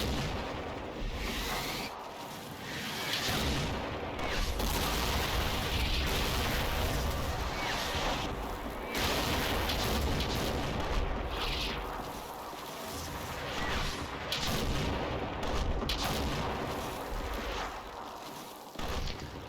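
Steady rumbling artillery bombardment fills a World War II battle in the Combat Mission video game. Repeated booms and blasts sit under continuous roaring background noise.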